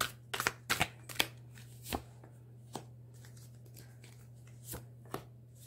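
Oracle cards being shuffled and handled during a reading: a quick burst of crisp riffling snaps early on, then sparser single taps and slaps of cards spaced out over several seconds, close and fairly quiet over a steady low hum.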